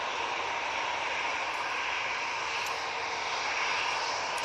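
A jet airliner takes off from Manchester Airport bound for Orlando, its engines a faint, steady hiss-like roar heard from a distance, with no speech.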